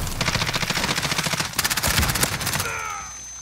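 Rapid automatic gunfire from a Modern Warfare multiplayer match, dense bursts of shots rattling steadily for about two and a half seconds before cutting off, leaving a brief faint tail.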